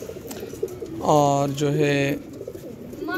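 A pigeon coos once near the middle, a clear, loud, drawn-out call up close. Someone speaks briefly before it, with faint background noise.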